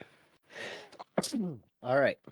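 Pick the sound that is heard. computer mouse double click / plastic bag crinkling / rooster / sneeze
sneeze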